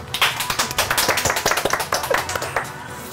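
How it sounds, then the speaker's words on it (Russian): Studio audience on a Russian TV show claps steadily, a dense run of sharp hand claps close by with faint voices mixed in. "Вы просто хлопаете так все"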